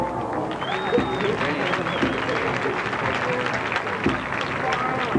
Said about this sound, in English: So let's give a round of applause to the 1985 Fiesta Bowl court.